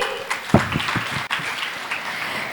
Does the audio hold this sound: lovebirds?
no